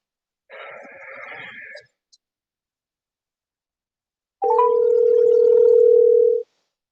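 A telephone dial tone plays before a phone call: first a short buzzy burst, a pause, then a loud steady tone holding for about two seconds before cutting off.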